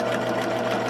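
A sewing machine stitches a wide zigzag on a fabric mask, a close, steady mechanical whir with a rapid rhythmic needle beat throughout.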